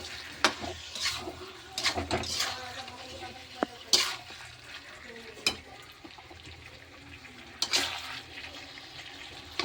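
Food fries in a pan with a soft continuous sizzle, broken by sharp clinks and scrapes of a utensil stirring now and then.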